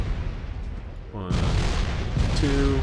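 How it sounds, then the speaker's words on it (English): Grenade explosion in the Factorio video game, a sudden loud boom bursting in partway through and rumbling on, with someone speaking over the game sounds. "Oh, I hit myself with the grenade."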